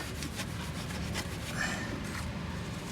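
Rag wiping a part clean during an oil change on a 2018 Chevrolet Malibu LS 1.5T, a continuous close rubbing and scrubbing with rhythmic strokes for a few seconds.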